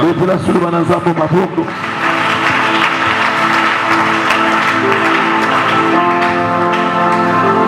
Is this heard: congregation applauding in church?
yes